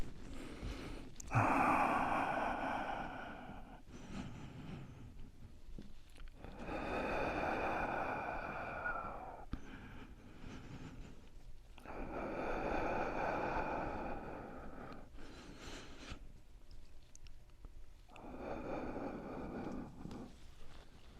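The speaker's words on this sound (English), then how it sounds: "It's good to have someone breathing out loud, so it keeps you focused on it." Loud, deliberate breaths drawn in and pushed out during a floor stretch with hips pushed back and forehead lowered, arriving in long swelling waves about every five seconds, close and alone.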